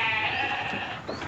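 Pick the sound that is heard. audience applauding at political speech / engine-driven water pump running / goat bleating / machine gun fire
goat bleating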